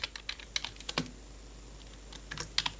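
Quiet, irregular clicking of typing on a computer keyboard while entering text in Canva, with a short burst of keystrokes, a pause, then a few more taps near the end.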